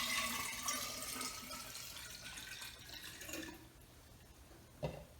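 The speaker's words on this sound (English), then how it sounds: "So to this mixture, we're going to add our 3 cups of cold water." Three cups of cold water pour into a water kefir mixture, a steady splashing gush that fades out, followed by a single light knock.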